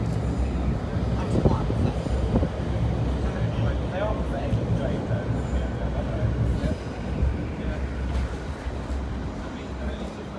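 A train passes Brayford Level Crossing in Lincoln, a loud continuous rumble of wheels and carriages close by that holds steady then eases slightly toward the end, with people talking over it.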